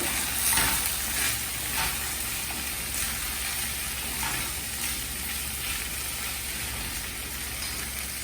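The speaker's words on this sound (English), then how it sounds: "put the potatoes, cauliflower, your peas" Potatoes, cauliflower and peas drop into a hot, sizzling pot, giving a loud, continuous crackling fry with faint stirring scrapes throughout and no voices.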